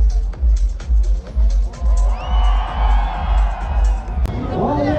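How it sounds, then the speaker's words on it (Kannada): Crowd cheering and whooping at the CEAT Indian Supercross freestyle stunt event, a loud roaring mass of voices with rumbling wind noise and nearby talk. "ಕ್ರೌಡ್ ಸಿಕ್ಕಾಪಟ್ಟೆ ಕ್ರೇಜಿ ಆಗಿದೆ ನೋಡಿ"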